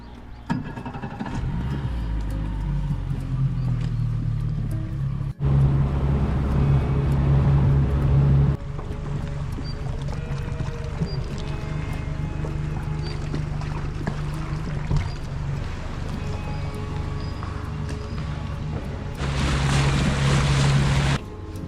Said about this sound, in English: Getting ready to go for a drive in the dinghy over to Haran Beach.